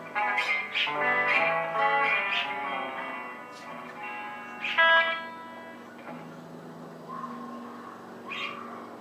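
Electric guitar notes through a Marshall Code 25 amp with a wavering vibrato, a few plucked phrases and sustained tones ringing out on their own.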